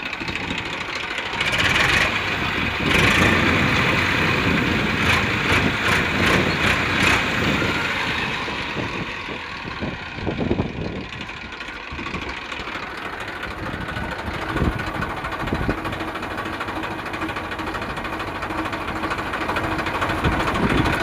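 A diesel tractor engine idles steadily nearby, a continuous rough rumble with a rattling, knocking texture throughout.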